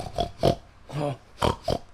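A voice imitates a pig with five short nasal oinks in an uneven rhythm, close and fairly loud.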